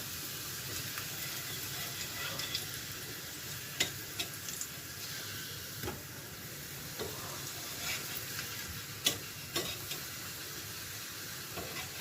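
Food frying in a pan on a gas stove, a faint, steady sizzle and hiss with occasional soft clicks and taps of a utensil, no talking.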